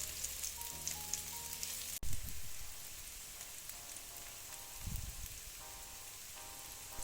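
Sliced shallot frying in oil in a pan over medium heat, a steady crackling sizzle with light popping throughout, close, under faint background music and without voices.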